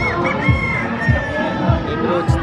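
Chickens cluck and roosters crow repeatedly amid a busy crowd at a pet expo in the Philippines, with people chattering and talking nearby throughout.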